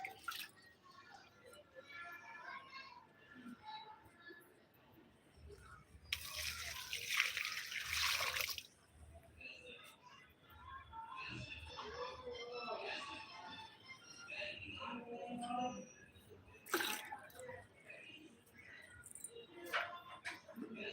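Water poured onto potted plants after fertilizer is added, a splashing gush standing out for a couple of seconds mid-clip, with softer drips and trickles elsewhere; a voice talks throughout.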